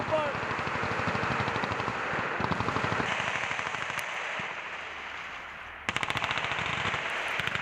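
Sustained automatic gunfire in a military video game battle, a rapid steady stream of shots that cuts out briefly and then returns in a sharper, louder burst near the end, with voices talking underneath.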